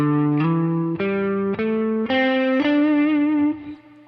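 Distorted electric guitar with a chorus effect plays linked minor pentatonic shapes starting on G, picking a quick rising run of single notes that ends on a longer sustained tone that fades out.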